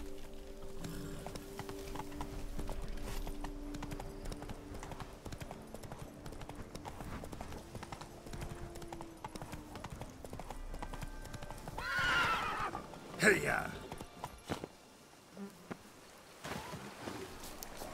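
Horse hooves clip-clopping at a gallop across terrain in The Witcher 3, steady and close, with a horse neighing and a rider's brief shout partway through.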